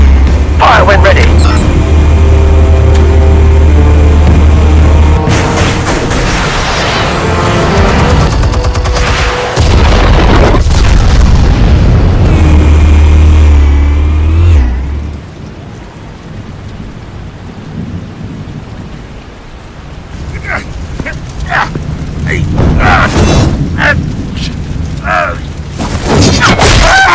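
Explosions from the Batman: The Telltale Series video game, heavy booms and rumbling blasts in a loud, dense stretch over the first fifteen seconds, then quieter crackling bursts and scattered impacts with voices in between.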